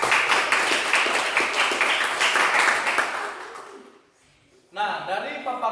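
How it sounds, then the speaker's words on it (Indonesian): Classroom applause for a student presentation group, sharp close claps for several seconds that fade out, followed by a voice speaking. "beri tepuk tangan untuk kelompok 2"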